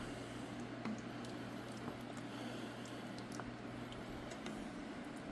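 Chili in a pot simmers gently on low heat, giving faint, scattered bubbling pops and soft liquid squishes over a steady low background hum.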